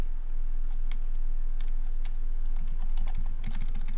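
Quick, uneven bursts of key clicks come from someone typing a save name on a computer keyboard during a Police Quest: Open Season game session, close and clear over a faint steady hum, with no talk.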